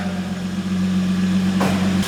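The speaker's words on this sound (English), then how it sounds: "Now you just want to let it idle with the oil flush in there." A Holden VS Commodore engine idles with an oil flush in it, a steady low hum, joined by a brief burst of hiss near the end.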